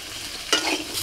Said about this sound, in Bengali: সবজিগুলো কিছুক্ষণ ভেজে নিয়ে জল দিচ্ছি